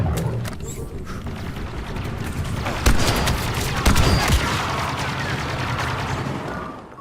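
Rapid blaster rifle fire from the A280 in Star Wars Battlefront 2, dense bursts of shots layered under continuous battle noise with a couple of louder impacts near the middle.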